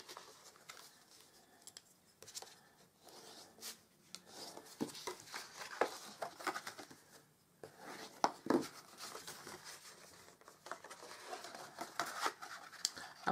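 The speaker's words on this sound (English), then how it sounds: "now I'm going to burnish these score lines" Paper score lines being burnished for a handmade gift bag: soft, intermittent rubbing and scraping strokes up close, quiet and uneven, with brief pauses between passes.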